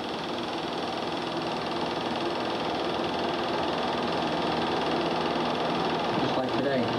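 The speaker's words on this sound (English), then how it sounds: "See, this dredge is almost backed up through the sand, huh? Well, it's working its way right on out." Steady diesel drone of a sand dredge engine working at an ocean inlet, a continuous loud rumble with mechanical knocking that holds unchanged from start to finish.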